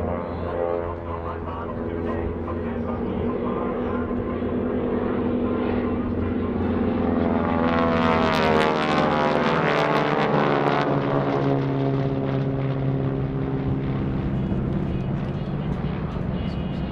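GEICO Skytypers World War II-era propeller planes flying a gun's jig maneuver at a 2017 World War II Weekend airshow, a loud continuous engine drone that swells and sweeps in pitch as the formation passes overhead, with an announcer talking over it.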